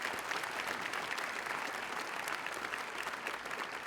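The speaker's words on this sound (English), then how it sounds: "So a round of applause to our parents and everybody here tonight." Audience at a high school IB pinning ceremony clapping for parents, a dense, even round of applause from a crowd filling the whole moment at moderate volume.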